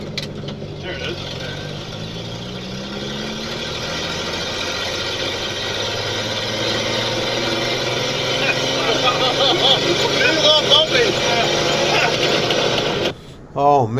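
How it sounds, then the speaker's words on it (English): The engine of a 1952 Ford F6 tanker truck runs under load, a steady rumbling drone that grows slightly louder, with someone talking briefly over it. "Listen to that engine, that 1952 Ford engine from the factory."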